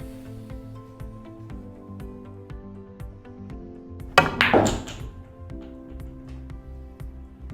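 A cue strikes a pool ball for a three-rail shot: one sharp, loud knock followed by a short burst of ball clatter and a quick clack, set against a steady background hum.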